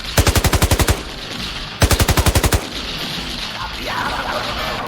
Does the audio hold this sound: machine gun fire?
yes